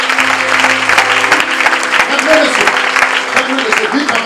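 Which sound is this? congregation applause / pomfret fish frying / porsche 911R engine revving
congregation applause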